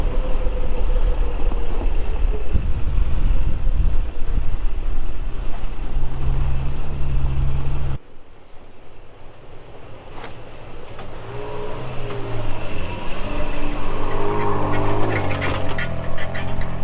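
Toyota Tacoma and Ford Ranger trucks driving along snowy snowmobile trails, engines rumbling at moderate level with tire and snow noise, dropping quieter midway then rising again.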